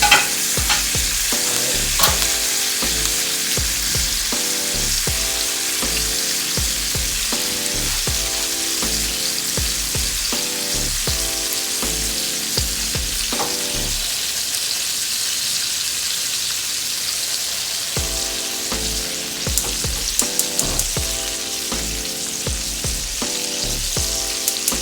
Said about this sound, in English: let your butter just melt. Just let your fresh herbs continue to cook. Let your garlic cook down.